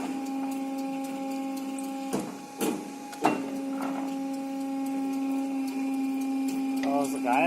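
A hydraulic profile rolling and tube bending machine with two fixed bottom rollers and a movable upper roller runs with a steady tonal mechanical hum, broken by a few sharp clanks and knocks partway through.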